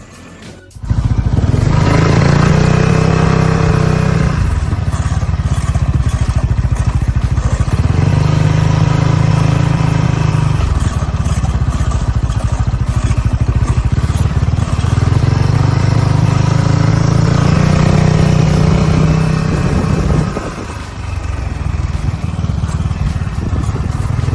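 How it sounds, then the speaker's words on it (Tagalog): A Rusi Adventure X 150i scooter engine runs steadily and close, its hum rising and falling in cycles, with a faint metallic rattle from the rear wheel mixed into the drone. "Yung tunog niya parang kumakalasgas or kumakalansing na bakal."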